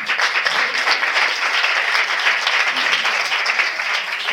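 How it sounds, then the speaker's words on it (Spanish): Sustained applause from an audience at a student-organised journalism congress on globalisation, a dense steady wash of many hands clapping with no talk over it. "Y un fuerte aplauso."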